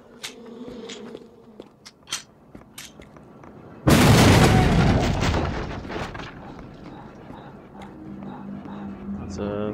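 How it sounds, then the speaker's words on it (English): A barrel is shot and explodes, blasting apart boxes in the shooter game You Are Empty, a sudden loud burst mid-clip followed by a decaying rumble, with insect-like buzzing and a voice speaking earlier. "We need to shoot that barrel to blow up those boxes."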